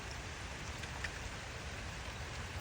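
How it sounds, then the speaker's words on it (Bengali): Rain falls on tree leaves under bright sunshine, a steady soft hiss of drops with no voices, even in level from start to end. "গাছের পাতার উপরে শিশির বিন্দুর মতো বৃষ্টি পড়ছে, ভাল লাগছে শব্দটা।"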